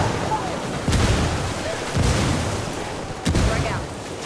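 Frag grenade blast and gunfire in the shooter game Ghost Recon: Wildlands, with several heavy booms and bursts at roughly one-second intervals over a continuous rumble of battle and some talk.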